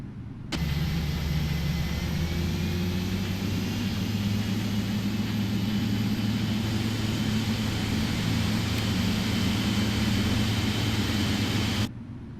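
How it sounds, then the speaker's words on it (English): Both engines of a PMDG Boeing 777F spool up in the Prepar3D flight simulator, a steady loud cockpit rumble with low droning tones and a broad whooshing roar that holds evenly from start to finish. "looks like 2 good engine starts"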